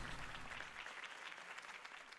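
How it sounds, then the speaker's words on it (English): A crowd applauds a campaign speech in the video game Batman (Telltale). The applause is steady and muffled, sounds distant, and is quiet throughout the short burst. "If only Mr. Wayne, my campaign's largest backer, could have heard that applause"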